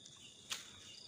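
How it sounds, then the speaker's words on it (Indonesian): A single short cricket chirp rings out faintly over quiet nighttime background hiss. "Ini jangkrik mana nih?"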